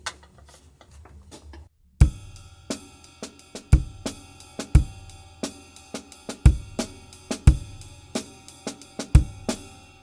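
Beginner drum kit groove with both hands played quieter, ghost notes on the snare under steady hi-hat ticks and periodic kick-snare accents in an even rhythm, close and dry.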